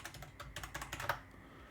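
Quiet, close keystrokes on a computer keyboard as a password is entered, a quick irregular run of soft clicks lasting under two seconds.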